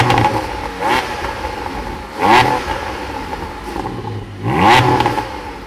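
A Porsche Cayman GT4 engine runs nearby with a steady mechanical hum, swelling in three brief revs that rise and fall at intervals.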